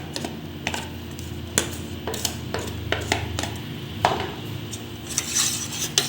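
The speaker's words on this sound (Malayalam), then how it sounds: "ഇനി ഇത് നമുക്കൊന്ന് മിക്സ് ആക്കി എടുക്കണം" Semolina porridge with shallots and raisins being stirred in a pot, with a spoon clinking and knocking against the metal rim in irregular taps over a low background hum.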